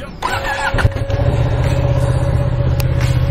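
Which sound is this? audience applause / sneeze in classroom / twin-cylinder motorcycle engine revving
twin-cylinder motorcycle engine revving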